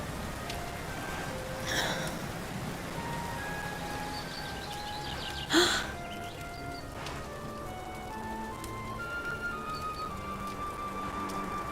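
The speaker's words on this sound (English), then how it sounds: "Looks like the rain's dying down." Rain falling steadily in the Dragon Quest XI game, a soft continuous patter with scattered droplet ticks and a couple of brief louder splashes, with faint musical tones underneath.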